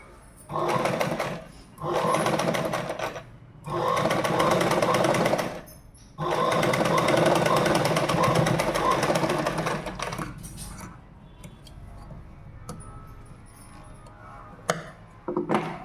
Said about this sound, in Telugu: దీన్ని కూడా టాప్ స్టిచ్ చేసుకోవాలి